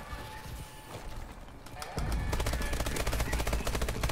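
Rapid automatic gunfire in the video game Call of Duty: Advanced Warfare, heard as dense rattling bursts that grow louder and steadier halfway through, with game noise underneath.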